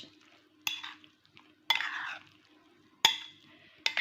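A spoon scoops a zucchini mixture into portions, giving four sharp scraping clinks against a bowl spaced about a second apart, close by, with quiet pauses between them.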